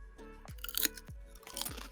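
Crisp, close crunching of potato chips coated in chocolate syrup, with several distinct bites and chews at a steady rhythm and no voices.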